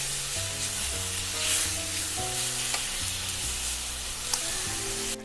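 Beef rice noodles with Chinese chives stir-fried in a hot pan for beef ho fun, with steady sizzling and scraping from the pan and background music running throughout.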